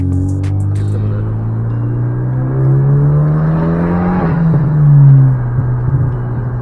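Car engine revved at 75% throttle, rising steadily in pitch over several seconds to a loud peak before easing off, with no talk.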